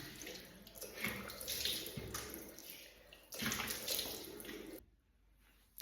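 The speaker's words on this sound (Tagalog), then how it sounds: "Ang ipang babanlaw ko siyang malamig lang na tubig." Cold tap water runs and splashes as a face is rinsed. It comes in close, uneven bursts of splashing and gurgling, then cuts off abruptly near the end, leaving quiet.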